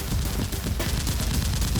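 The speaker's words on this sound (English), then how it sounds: "Both sides were still engaged in intense gunfire." Staged gunfire effects in a Nerf gun fight set in an abandoned building come as dense, rapid bursts of loud shots, packed tightly like a continuous exchange of fire.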